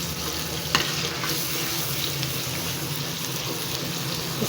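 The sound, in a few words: frying and stirring tomatoes for chicken karahi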